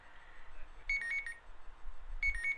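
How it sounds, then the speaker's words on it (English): Alarm clock beeping in two short bursts of high, repeated electronic tones, moderately loud against a quiet background. "that is my alarm that says I am very close to running out of time"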